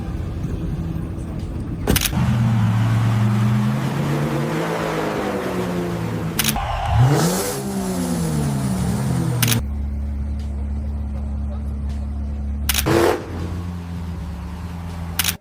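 A supercar drives through the streets of Monaco, its engine rising and falling in sweeping revs with a couple of sharp clicks. The car stays fairly close and loud throughout.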